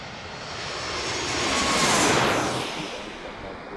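An airliner arriving at Washington's DCA airport roars past, its jet engine noise swelling to a loud peak in the middle and then fading as it moves away.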